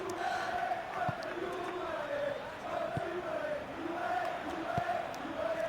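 Juventus supporters chant in a packed football stadium during a Champions League match against Borussia Dortmund, a steady distant roar of massed voices with a sustained sung tone and occasional sharp thumps.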